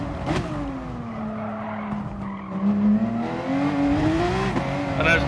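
Gran Turismo Sport race car at the Red Bull Ring, its engine note dropping steadily as it brakes into a corner, then climbing again with light tire scrub, loud and close throughout.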